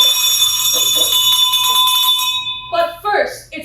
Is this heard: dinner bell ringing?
yes